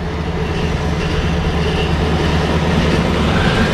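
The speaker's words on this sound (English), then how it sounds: "Sounds like the fan's making just a little bit of noise." A Lincoln car engine idles with a steady, loud low rumble and a broad whooshing fan noise layered on top, continuous and close without pauses.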